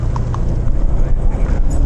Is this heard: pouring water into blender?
no